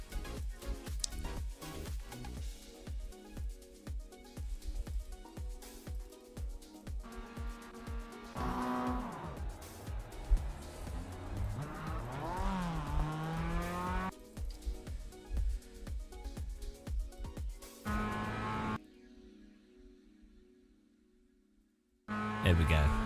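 Race cars in a racing video game roar through a lap with loud, continuous engine tones, rising and falling pitch sweeps, and clattering impacts as one slams into a wall, ending in a brief drop to near silence before noise returns.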